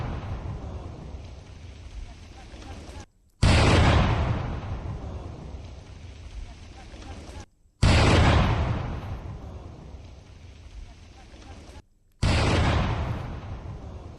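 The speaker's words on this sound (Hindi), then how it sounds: "नक्सलियों ने जो आईईडी बेलपोचा के पास आईईडी प्लांट कर रखा था" A planted IED near Belpocha in Sukma is destroyed in a controlled detonation. Three booming blasts come a few seconds apart, each a sudden loud burst that rumbles and slowly fades over a steady background.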